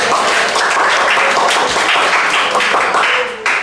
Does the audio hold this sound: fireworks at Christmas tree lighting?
no